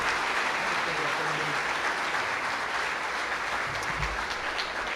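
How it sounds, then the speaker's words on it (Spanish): A church congregation applauding, a loud, dense, sustained wash of clapping from many hands filling the room throughout. "lo recibimos con un fuerte aplauso"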